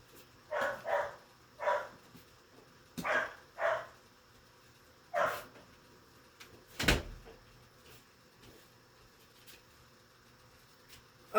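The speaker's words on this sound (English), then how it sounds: "the dog is barking at me" A dog barks at home in short bursts, about six sharp barks in an uneven rhythm, nearby and fairly loud, followed by a single thud like a door or cupboard and then quiet.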